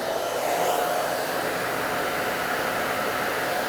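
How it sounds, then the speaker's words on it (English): A hair dryer on medium heat blows a steady, loud rush of broadband air noise while drying curly, wavy hair, continuous and unbroken throughout with no talking. "This is not my blow dryer, so I got used to that other one."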